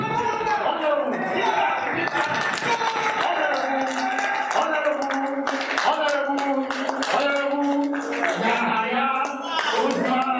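Sustained applause greets a newly introduced running mate at a political party gathering, with a dense patter of clapping under a loud amplified voice talking throughout.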